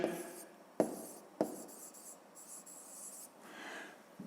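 Pen writing on paper during a 7th-grade physics exercise, a few sharp taps and short scratchy strokes spread over a quiet room with faint background hiss.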